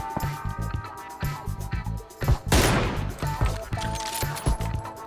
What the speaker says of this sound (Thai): ระแวงเสียงปืนมากเพื่อนยิงอยู่ข้างหลังผม